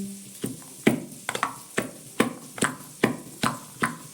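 A rolling pin pounds green chillies and garlic inside a glass, giving about nine sharp, evenly spaced thuds at close range.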